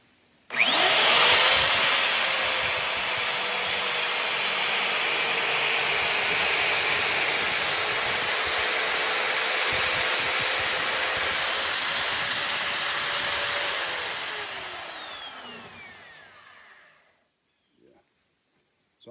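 A loud, steady whine of a magnetic drill cutting through a steel plate, holding for about fifteen seconds before winding down to silence.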